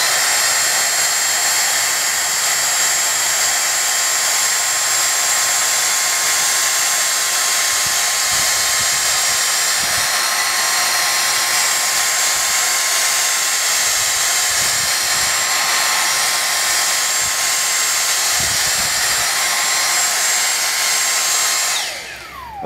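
A vacuum cleaner runs in normal suction mode with a steady, loud, high-pitched motor whine and airflow roar, continuous for about twenty seconds before cutting off at the end, with no talking.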